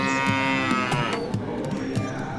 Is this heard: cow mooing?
yes